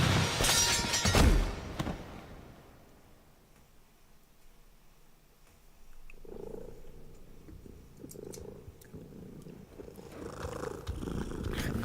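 A big cat purrs loudly and close for about two seconds, then fades into quiet ambience with faint clicks and shuffling as a low rumble returns.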